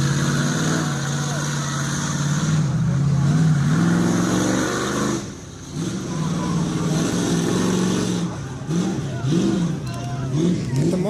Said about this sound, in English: The monster truck ride.